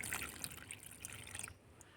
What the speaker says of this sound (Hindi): तो यहाँ इसमें पानी डाल देती हूँ।